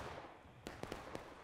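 Distant Union artillery fires in a multiplayer Civil War battle game, several quick, faint booming reports clustered within a second over a low battlefield rumble.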